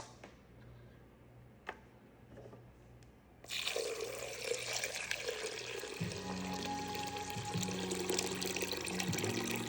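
Tap water gushes steadily into a container set on a kitchen scale for sourdough, starting suddenly after quiet handling and running loud and close, its tone shifting as the container fills, with no talk.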